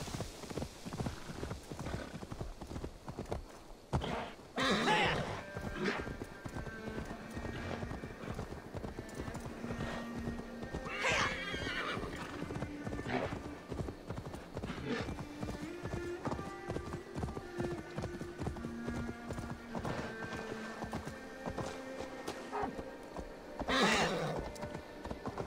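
Horse hooves clip-clopping steadily at close range as a horse climbs a hill in the video game Assassin's Creed Valhalla, with a few whinnies and neighs breaking through the continuous rhythmic hoofbeats.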